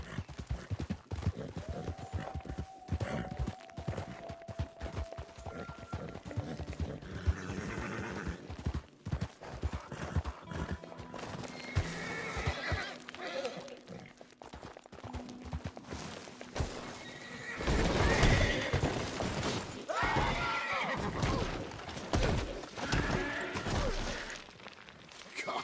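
Horse in the video game Red Dead Redemption 2 galloping with rapid hoof clatter, a drawn-out whinny early on and another later, with game effects and a loud rushing passage near the end, no clear talking.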